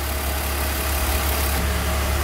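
A car engine idles normally with a steady, even rumble, close and continuous throughout, with no voices.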